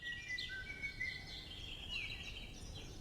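Nightingales sing in the open air of Poliske, a string of clear, high whistled phrases and trills at moderate distance over a soft, steady background hiss.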